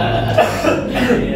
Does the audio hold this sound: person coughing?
yes